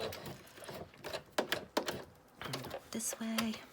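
A sewing machine stitches a zigzag on an envelope in short, rattling mechanical bursts, close by, while a person talks over it.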